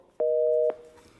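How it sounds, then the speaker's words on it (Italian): A telephone line gives a single steady busy tone after a call to a live radio call-in show drops. The beep is clean and sustained for about half a second, then cuts off to quiet line noise. "Oh là là, è caduto, per cortesia riprendete la telefonata."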